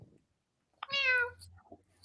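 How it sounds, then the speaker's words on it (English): A cat gives one clear, close meow in a quiet indoor room, followed by a softer short vocal sound. "We're about to be joined by another cat."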